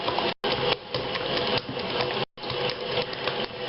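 A stand mixer kneading whole wheat bread dough at about speed level 5 gives a steady loud motor whir with a rhythmic knocking, cut off by two brief dropouts.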